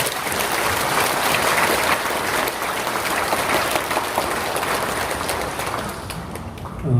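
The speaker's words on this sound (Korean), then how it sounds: "우리 다 같이 큰 박수로 한번" A temple congregation claps together in a broad, steady wash of applause that holds for several seconds and thins slightly toward the end.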